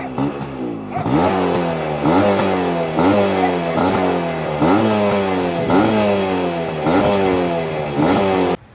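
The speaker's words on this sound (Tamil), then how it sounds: "எக்ஸாஸ்ட் சவுண்ட் பார்த்தீங்கன்னா உங்களுக்கு அப்படியே மிரள வைக்கும்" A vintage two-stroke Yamaha RX 135 motorcycle revs repeatedly, its exhaust rising and falling in about seven loud, close blips with a rattly, buzzing tone, cutting off abruptly at the end.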